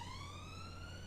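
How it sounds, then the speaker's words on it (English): A police car siren in the city-building game Cities: Skylines gives one faint, steady wail that slowly rises in pitch over a low background hum. "you just caught the sirens"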